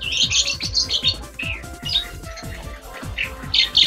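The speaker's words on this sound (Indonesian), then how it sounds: "Ini mah lovebird itu. Ah, lovebird pasaran." Lovebird calls at a zoo in Lembang, Indonesia: repeated shrill squawks and chirps in short bursts, fairly close, with a low hum and faint background voices underneath.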